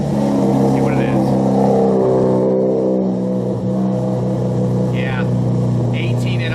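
A Toyota Supra with a fuel pump wiring fault idles steadily nearby, a loud continuous low engine drone with an even hum and no revving.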